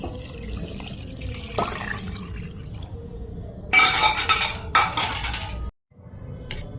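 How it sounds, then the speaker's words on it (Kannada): Water splashes and trickles into a metal pressure cooker for chicken biryani in a few bursts, with a steady background hiss and brief pauses between pours. "ಈಗ ನೀರು ಹಾಕೊತೀನಿ ಮೂರು ಲೋಟ"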